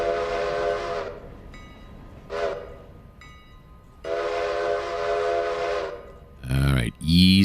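A freight train in the Railroader simulation game rolls with a low rumble under long, loud horn blasts, one at the start and a longer one midway, with shorter toots between and a brief sharp mechanical burst at the end.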